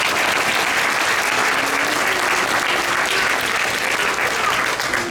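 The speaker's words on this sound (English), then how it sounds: "Let us give them a big round of applause." Loud, sustained applause from the audience at a registered nursing pinning ceremony in Madera, California, a thick continuous roar of clapping with a faint voice underneath.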